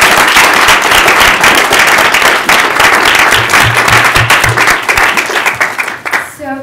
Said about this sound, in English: Please join me in giving a big round of applause to all these entrepreneurs.